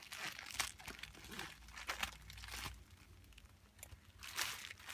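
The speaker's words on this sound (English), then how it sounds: "I'm going to have to cut this open because she has packaged it well yet again." Cutting open a tightly wrapped parcel, with close, quiet crinkling and scraping of packaging in irregular bursts and rustles, no talking.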